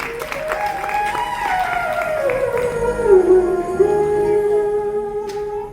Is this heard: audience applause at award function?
yes